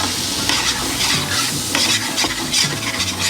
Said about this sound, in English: Mix everything until it's fragrant.